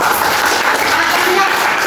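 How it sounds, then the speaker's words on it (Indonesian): A class of students in a microteaching lesson bursts into applause, a loud, dense, steady wash of clapping lasting about two seconds before it cuts off. "Tepuk tangan untuk kita"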